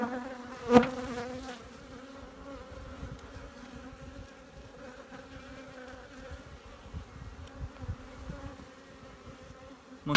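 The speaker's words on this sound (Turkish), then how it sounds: "Arının çoğu da dışarıda. Bakın ne kadar sıkışık." Honey bees swarm and buzz around an open, crowded hive on a hot, sunny day, a dense steady drone close by with one brief louder bump near the start.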